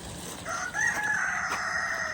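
A rooster crows once in a backyard garden, a drawn-out call that rises and then holds, heard at a moderate distance over soft outdoor background noise with no talking.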